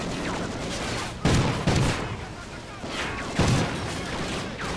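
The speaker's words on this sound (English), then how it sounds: "Oh, shotgun." Shotgun blasts in Call of Duty: Ghosts: three loud, booming shots spaced over a few seconds, each with a sharp broadband crack, set against constant background game noise and combat ambience.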